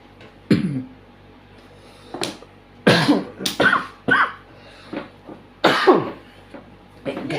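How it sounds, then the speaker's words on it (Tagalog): Several sharp coughs and throat-clearing bursts come one after another near the mic during a mahjong game, with quiet table noise in the gaps between them. "Grabe, ubo to."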